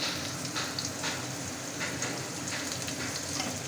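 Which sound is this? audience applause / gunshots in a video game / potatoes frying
potatoes frying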